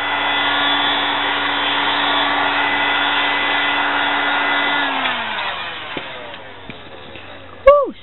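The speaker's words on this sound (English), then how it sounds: "You want to make sure you're moving your heat gun around fast" A heat gun blows a steady, loud whirring roar while heating wet wipe flower petals, then shuts off and winds down around the midpoint, leaving faint handling noise and a short sharp squeak near the end.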